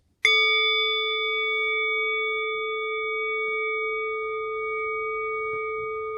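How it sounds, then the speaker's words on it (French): A single bell is struck once during a relaxation session, giving a clean, pure ringing tone that sustains and slowly decays over several seconds in a quiet room. "en écoutant le son de la cloche"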